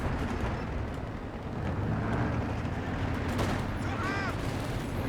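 Sustained Maxim machine gun fire in Company of Heroes 2 rolls on under a dense, steady battle din of explosions and mixed gunfire.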